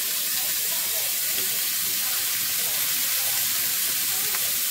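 Steak sizzles on a griddle pan in a steady, loud, continuous hiss that holds unchanged for the whole stretch, close and alone with no talking.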